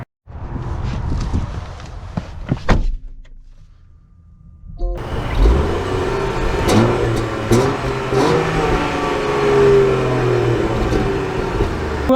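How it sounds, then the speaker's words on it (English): A 2023 Range Rover Sport with an inline-six engine: a few clicks and footstep-like knocks sound over a low idle at first, then a quiet pause, before the engine starts pulling and revs rise and fall under cabin noise. "this inline six, it's a good engine"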